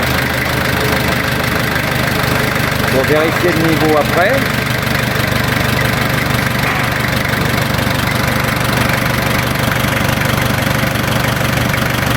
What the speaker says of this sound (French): on va faire tourner le moteur pour remplir le filtre à huile